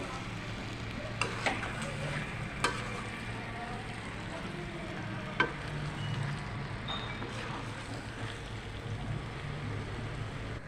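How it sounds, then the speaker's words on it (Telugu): Prawn, egg and okra curry being stirred in a pan, a steady low simmering sizzle with a few sharp utensil clinks against the pan, close and continuous with no talk. "ఇలా బాగా మగ్గే వరకు కలుపుకోవాలి"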